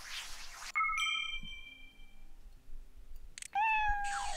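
Game cat meows in a veterinarian simulation, several short synthetic meows with chime-like ping tones, clear and close with no talking.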